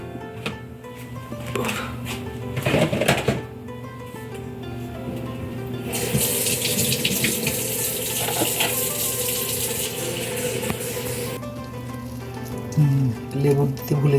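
Water trickles and pours into a fried chicken marinade in a kitchen, a steady splashing stream lasting several seconds before easing off.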